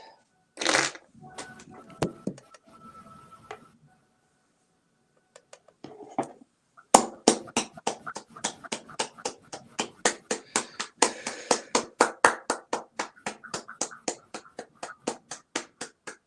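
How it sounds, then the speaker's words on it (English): A scattered burst of hand clapping, followed by a long run of steady, fairly loud claps in a regular rhythm with no talking. "And everyone's applauding."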